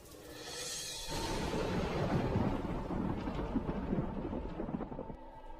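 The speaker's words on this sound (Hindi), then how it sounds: "सुबीर, तू इतनी रात को इस तूफान में" Thunder rumbles and rolls through a stormy night in an animated story, deep and sustained, with rain and wind hissing beneath a steady, fairly faint roar.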